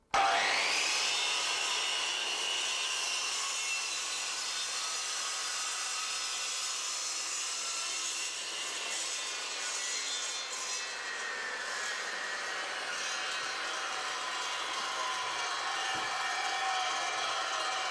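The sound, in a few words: Triton Workcentre power saw making a plunge cut in wood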